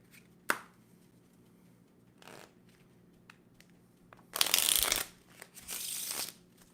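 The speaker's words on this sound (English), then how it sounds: "shuffling is one of the most underrated skills you can develop as a magician" Playing cards being shuffled by a magician in two broadband riffling bursts near the end, each lasting about a second or two, preceded by a few soft taps and handling noises in an otherwise quiet room.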